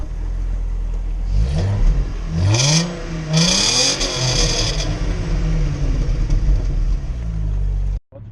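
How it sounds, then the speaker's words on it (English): An Audi A4 engine with the muffler deleted revs up close by in a few rising bursts, its pitch sweeping up and down, then cuts off abruptly at the end. "So I'm gonna rev it real quick and I'm gonna move it forward"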